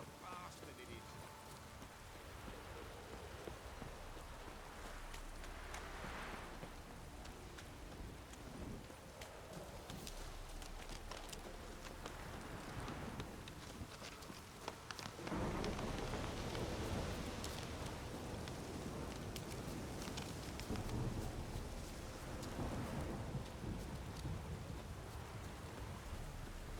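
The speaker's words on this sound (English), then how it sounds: "This downpour's a bastard" Steady rain pours down in The Witcher 3, a constant hiss of downpour with occasional low rumbles beneath, continuous and moderately distant throughout.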